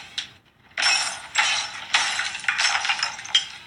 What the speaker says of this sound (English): he stands in front of a mirror and proceeds to smash it with his head 3 times